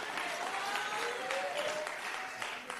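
An audience at the ANC national general council applauds during President Ramaphosa's speech, a broad, steady wash of clapping heard from a distance, continuous and fairly quiet.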